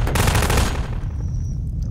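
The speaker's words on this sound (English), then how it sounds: "I'm taking pot shots on James" Rapid gunfire from a Garry's Mod Prop Hunt match, a loud, dense burst of shots through the first half-second or so, then a rumbling decaying tail with a faint high tone, no talking.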